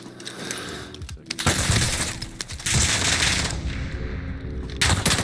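Bursts of gunfire in a Call of Duty match, with sharp loud shots and rapid volleys sounding close and repeated over several seconds, including sniper fire.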